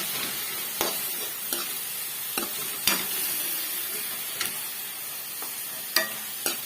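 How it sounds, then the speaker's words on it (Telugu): Tamarind leaves and small fish are stirred into a curry in a pan, a faint steady sizzle broken by sharp, irregular clicks of a spoon against the pan, close by and without voices. "ఈ చింత చిగురును కూడా వేసేసి బాగా కలుపుకోవాలి"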